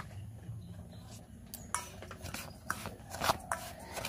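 Semolina, flour, salt and baking powder are stirred in a bowl for chitoi pitha, with soft dry scraping and a few sharper clinks of a spoon against the bowl. The sound is close but quiet, with no talk.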